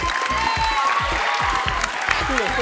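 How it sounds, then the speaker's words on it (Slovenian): Spectators at a primary school fast-cups relay competition clap and cheer steadily throughout, with shouting voices mixed into a dense, continuous crowd din. "navijači se vidijo, nabijajo za tekmovalce"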